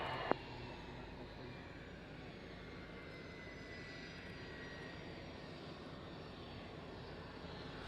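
Display aircraft callsign Griffin lines up on runway 27 at Fairford, a steady, even engine roar heard at a distance that holds level throughout, with one brief sharp click near the start.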